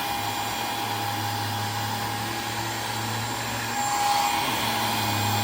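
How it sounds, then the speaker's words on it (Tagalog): A Pery Smith Xtreme V30 Pro dust mite vacuum cleaner with UV light runs steadily at full power, a close, continuous motor whine and airflow hiss that grows slightly louder near the end. "kapag pinindot nyo pa ng isa, mas lalakas yung vacuum niya"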